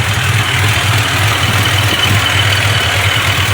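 A supercharged 2007 Pontiac Grand Prix GT engine idles after a new supercharger gasket and fuel rail, producing a loud, steady, close rumble with an even low pulse and broad mechanical whine, no voices.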